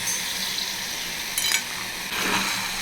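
Carrots, potatoes and beans sautéing in a pan with cooked tomato for a vegetable kurma, giving a steady close sizzle with brief bursts of stirring and scraping, no talk.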